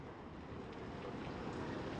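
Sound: heavy rain falling

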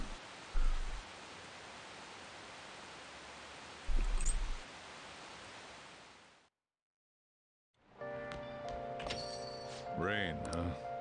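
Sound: rain in the video game Persona 5 Royal

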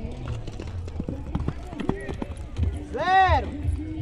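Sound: horses galloping during a ring race

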